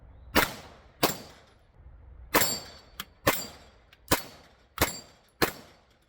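Gunshots from a refinished handgun at a shooting range, seven sharp, loud reports spaced roughly a second apart with short decaying echoes between them.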